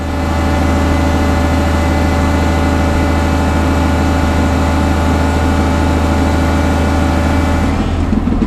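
A tractor engine pulling a Rhino 4155 flex-wing mower idles steadily at a loud, close, constant low drone with no change in pace and no voices over it.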